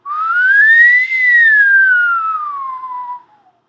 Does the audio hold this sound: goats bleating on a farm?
no